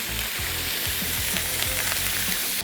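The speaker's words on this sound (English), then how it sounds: "you gotta bring that bacon that's just right. Let's get this down on the flat top" Bacon frying on a flat top griddle makes a loud, close, continuous sizzle with faint crackles and a few soft scraping taps, heard alone without talk.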